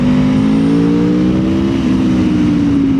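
A 2026 Aprilia Tuono V4 Factory sport motorcycle engine drones steadily at speed, its pitch rising and shifting as the rider accelerates, loud and close.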